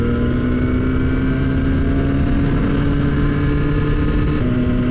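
A truck engine labors steadily up a long uphill grade in low gear, a loud, continuous droning rumble with a steady tone and no letup, heard from inside the cab.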